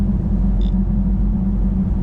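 A cammed Chevrolet Camaro SS V8 idling roughly, a steady deep lumpy rumble with an uneven beat, close and loud, with no other sounds over it.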